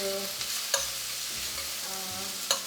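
Garlic and peppers fry in a pan with a bright, constant sizzle, interrupted by a couple of sharp clicks and scrapes of a stirring utensil against the pan.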